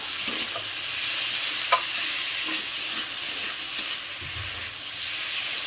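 Fish frying with tomatoes in a pan, a loud continuous hissing sizzle broken by a few light spatula taps and stirs, no speech.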